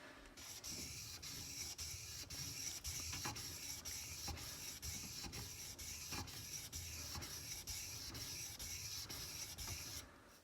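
Sloyd knife scraping on a sharpening stone in rhythmic back-and-forth strokes, a close, gritty rasp repeating steadily without speech.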